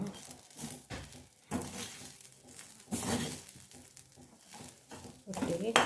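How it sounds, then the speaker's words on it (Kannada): Ingredients for a dry prawn chutney fried and stirred in a pan, giving soft sizzling with intermittent scraping and clatter of a utensil against the pan, fairly quiet and continuous through the clip, with a voice speaking over it. "ಇದನ್ನು ಒಟ್ಟಿಗೆ ಫ್ರೈ ಮಾಡುವ"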